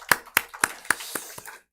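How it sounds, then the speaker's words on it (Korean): Six distinct, evenly spaced hand claps ring out in a church, each crisp and fairly close, fading slightly toward the end before silence. "다시 한번 하나님 영광의 박수를 한번 올려드립시다"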